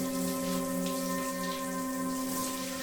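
Steady hiss of a running shower spraying water, continuous and fairly loud with a constant hum underneath, no voices.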